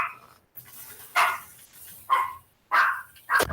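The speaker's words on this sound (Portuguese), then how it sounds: "Deixa eu fechar aqui que o cachorro está dando chilique." A dog barks at a home workstation, several sharp, fairly close barks in an irregular series, the last ones loudest, with quieter panting or whining between them and no speech.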